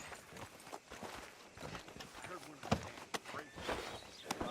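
Horse hooves clip-clop at an uneven walking pace in Red Dead Redemption 2, fairly faint beneath a voice giving instructions.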